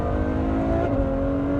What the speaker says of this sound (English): There's the acceleration, there's that sound, which is just orchestral.